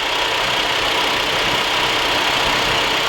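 A rally car engine idles steadily with a constant rumbling drone and a faint mechanical rattle, vibrating with a binding axle, close and continuous throughout.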